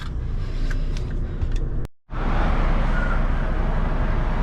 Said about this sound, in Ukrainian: Ну все, поїхав наш прицепчик далі.